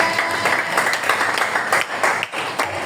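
A church congregation applauding to acclaim the Lord, dense rolling clapping from many hands, loud and sustained for a few seconds.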